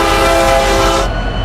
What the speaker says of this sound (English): So this is the original sound of horn, and the copy of this horn is gotta be Metrolink.